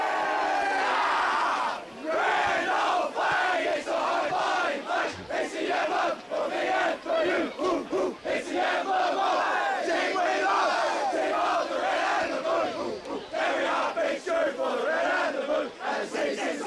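Australian rules football crowd at an Eastland match singing the club song after a goal, a dense sustained wall of massed voices, loud and continuous throughout.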